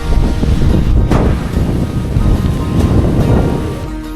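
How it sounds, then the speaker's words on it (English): Steady broadband roar of a waterfall in a forest, loud and continuous throughout, with some wind buffeting the microphone. "Finally came closer to the falls. I can hear the noise."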